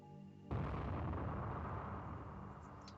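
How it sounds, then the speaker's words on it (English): An explosion outside in the visual novel game Chaos;Child bursts in abruptly after a brief quiet tone, then rolls on as a sustained, dense rumbling roar that slowly fades. "I heard an explosion coming from the track outside"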